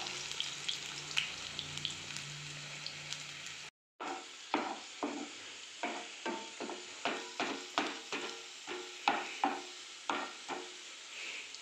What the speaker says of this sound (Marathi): लसूण चांगलं लाल होईपर्यंत त्याला परतून घ्यायचं आहे आपल्याला.